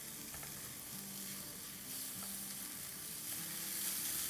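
Potato mixture for crispy aloo nuggets cooking on a high flame in a pan, a steady sizzling hiss with faint scraping stirs, continuous and fairly close.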